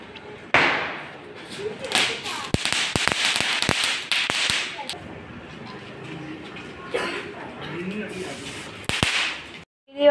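Diwali firecrackers burst outdoors in sharp, scattered bangs of varying loudness, some near and some farther off, with faint voices in the background.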